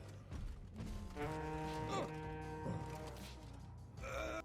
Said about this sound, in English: there will also be an audio cue for when you can grab the flag